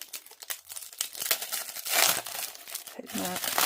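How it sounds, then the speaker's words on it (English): Plastic wrapping on a tarot card deck crinkles and tears close up in bursts, with a short vocal exclamation near the end. "And we have the cards in plastic wrapping."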